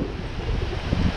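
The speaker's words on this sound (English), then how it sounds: "that last gust that just came by, that was over 35" A strong wind gust during a night storm with rain in the Deep South, a loud, continuous broadband rush that roars steadily for a moment without speech.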